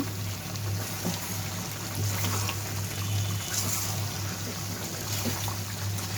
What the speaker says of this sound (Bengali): অল্প করে গরম জল দেবো